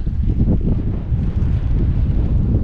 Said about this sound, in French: il y a par contre un petit peu de vent.